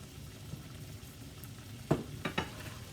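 Cubed venison browning in a frying pan, a quiet low sizzle with a few sharper clinks and scrapes near the end, no voices.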